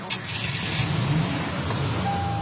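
A car engine idling steadily nearby, a continuous low rumble with a brief rise in revs early on and a faint tone toward the end, no speech.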